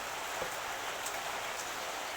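Steady rain falling, a dense even patter of drops with no voices.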